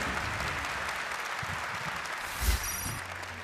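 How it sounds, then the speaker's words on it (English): A crowd applauds at a Gran Turismo World Series esports event in Fukuoka, a steady, continuous wash of clapping that carries on evenly throughout, with no one speaking. "Let's give him a round of applause"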